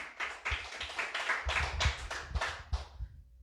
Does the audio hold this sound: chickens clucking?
no